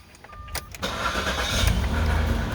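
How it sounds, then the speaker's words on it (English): A motor cranks over and catches, then settles into a steady, loud running drone that continues to the end, close by with no voices. "I'm going to start it up and let you take a listen to the motor run."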